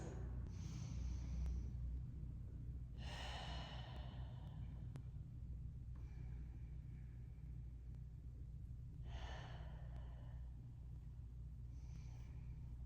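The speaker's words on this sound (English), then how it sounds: "Just take note and then breathe into those ribs." Slow, deep breaths drawn in and let out during a stretching exercise, three or four soft airy inhales and exhales over a constant low rumble, with no talking.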